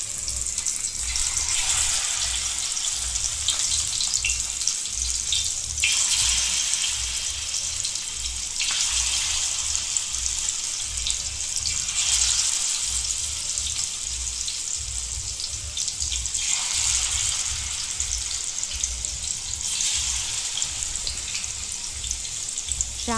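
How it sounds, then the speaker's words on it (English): Marinated surmai king fish shallow-frying in oil on an iron tawa over a medium flame, giving a steady, continuous sizzle with gentle surges that runs throughout without any talking. "Place the marinated fish gently in the pan."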